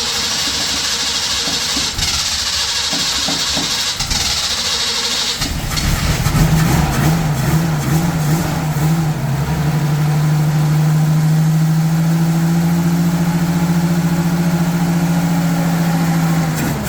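A 1983 Nissan Patrol engine cranking and then catching after years in storage, settling into a loud, steady close-up idle with a rough, uneven edge.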